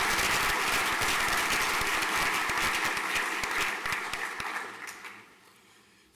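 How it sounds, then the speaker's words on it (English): A school prizegiving audience at St Paul's Collegiate School claps in a full, sustained round that gradually thins and fades out toward the end. "Round of applause, please."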